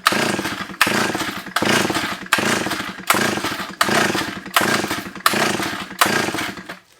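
A 45-year-old Solo 660 AV chainsaw engine on choke, rescued from a tip, bursts out in about nine loud, close, evenly spaced surges, each one cutting off sharply before the next, with no talking.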